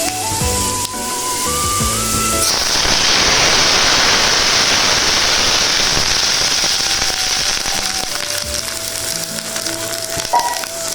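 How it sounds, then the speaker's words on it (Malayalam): Water hits a hot pan of popped mustard seeds for Kerala-style upma, erupting into a loud, hissing sizzle that holds steady and slowly eases, with soft background music throughout. "ഇപ്പോൾ കടുക് പൊട്ടിയിട്ടുണ്ട്. നമുക്ക് അതിലേക്ക് കുറച്ച് വെള്ളം ഒഴിക്കാം."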